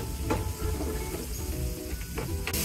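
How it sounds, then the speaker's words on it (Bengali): Thickly chopped, salted onions fry in a pan with a steady, close sizzle, broken by a few soft stirring scrapes and a brighter burst near the end. "এবার আমি পেঁয়াজগুলোকে 1 মিনিটের মতো ভেজে নেব।"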